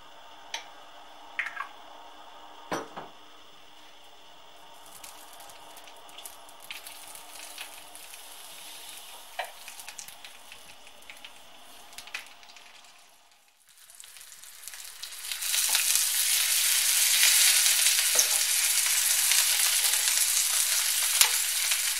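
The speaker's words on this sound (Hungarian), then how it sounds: "Most megsütjük a kolbászt. Pici olaj." Sausage frying in a little oil: quiet ticks and clicks at first, then a loud, dense sizzle swells up and stays steady and close for the last several seconds.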